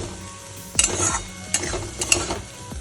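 Spices and cumin powder sizzle in oil in a pan during home cooking, with several sharp bursts of frying and stirring strokes over a steady close crackle, no speech.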